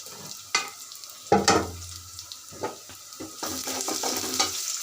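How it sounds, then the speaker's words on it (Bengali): Shrimp being stirred and fried in a pan with crushed garlic and vegetables: hot-oil sizzling broken by scraping and clanking of a utensil against the pan in irregular bursts, close by, with no talking. "এখন আমি ভালো করে নাড়িয়ে নিব।"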